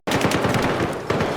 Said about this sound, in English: I'll shoot this first guy